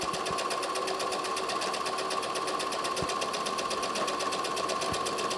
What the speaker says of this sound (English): And sew all the way down to the bottom of the pocket.